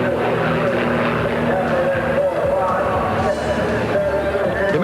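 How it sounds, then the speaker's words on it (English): The Double Take, an unusual airshow airplane with landing gear on top and bottom, flying at the 1993 Oshkosh airshow, a steady engine drone heard under continuous narration. "Hosking flies the Double Take, an unusual airplane featuring landing gear on top and bottom."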